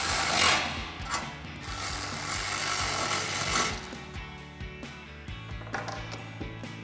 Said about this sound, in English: we'll use our 4mm Allen socket on our ratchet and a 10mm wrench